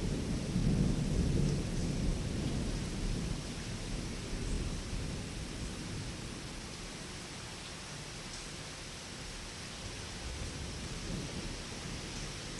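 A thunderstorm rumbles outdoors, with a heavier roll of thunder early on fading into a steady wash of rain and wind that continues quietly to the end, with no talk.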